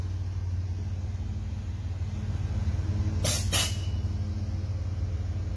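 Air suspension on a Chevy S10 mini truck lowers it, a short sharp hiss of releasing air over a low idling engine rumble, close by.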